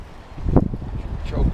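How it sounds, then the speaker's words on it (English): Strong outdoor wind buffets the microphone in low rumbling gusts, swelling and fading, with someone speaking over it. "I don't know if you can tell, but that wind is really howling."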